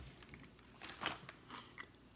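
Someone bites into a crunchy low-calorie snack and chews it, producing a few faint, irregular crunches close to the microphone with no talk.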